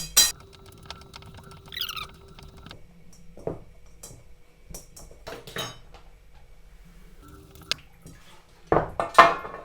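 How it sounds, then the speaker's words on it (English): A spoon stirring keto dough made with salt and olive oil in a bowl, giving sparse, quiet clinks and scrapes separated by pauses, with a louder cluster of clatter at the end. "Stir this all together. Just slowly incorporate it."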